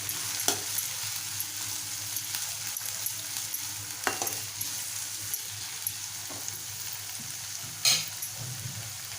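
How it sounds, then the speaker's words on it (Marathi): Sprouted moong being stir-fried with softened, lightly browned onion in a pan: a steady close sizzle with occasional scraping stirs and a sharp clink near the end, no talk. "परतूया."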